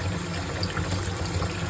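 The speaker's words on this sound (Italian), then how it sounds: "Bisogna sciacquarli con acqua proprio abbondante." Plenty of running water rinses chopped squash leaves (tenerumi) in a kitchen, a steady continuous splashing flow at close range with no voices.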